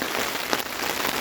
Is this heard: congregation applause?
no